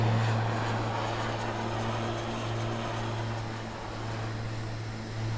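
A turboprop Bonanza drones steadily in flight during an approach in severe weather, its engine and propeller giving a constant low hum with broadband wind roar heard from inside the cabin, fairly even with slight swells.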